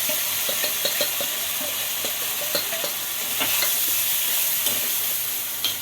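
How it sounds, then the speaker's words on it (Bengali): Ground spices of cumin, coriander, turmeric, salt and chili powder fry and sizzle in hot oil in a pan, with a steady hiss and repeated scraping stirs of a spoon, close and continuous. "এটা তেলে একটু নাড়াচাড়া করবো করে, এবার এতে দেবো মশলাগুলো"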